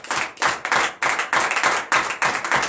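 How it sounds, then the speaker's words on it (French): A congregation at a Saturday morning prayer service in Benin claps in quick, uneven bursts, loud and close, with no voices. "donne de vives acclamations à notre Seigneur"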